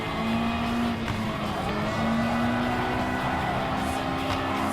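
Race car engines roar in a Gran Turismo Sport race with an Audi TT Cup car among Gr.4 racers and a Mazda Roadster Touring Car. A loud, continuous engine whine drones steadily, with faint tire noise underneath.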